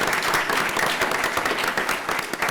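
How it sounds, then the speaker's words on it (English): Applause from a press conference audience for the cast of the film Pan, fairly loud and close, with many hands clapping in a brisk, uneven patter that lasts a couple of seconds. "Let's give him a round of applause"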